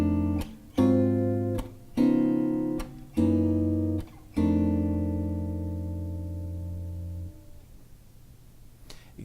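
Jazz blues turnaround on guitar using tritone substitution chords voiced with 9th and 13th extensions: four short stabbed chords in quick succession, then a final chord left ringing and slowly fading.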